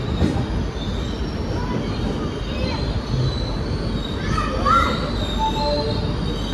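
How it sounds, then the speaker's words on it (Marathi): Jat Humsafar train 12751 rolls into platform 1 at Malkapur station with a loud, continuous rumble and clatter of wagons, thin wheel squeals rising near the end, and some voices mixed in. "आपली ट्रेन आलेली आहे मलकापूर रेल्वे स्टेशनला प्लॅटफॉर्म नंबर 1 वर"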